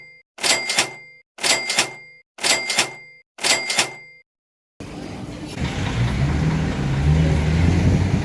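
Four sharp, evenly spaced clicks come first. Then a road-legal quad bike engine starts up and its rumble swells louder as it revs.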